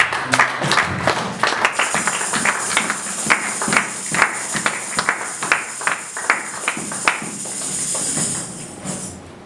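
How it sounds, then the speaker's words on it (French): A church congregation applauds at length, a dense wash of many hands clapping with sharper individual claps standing out, steady and fairly loud throughout with no talking over it. "Acclamons le Seigneur."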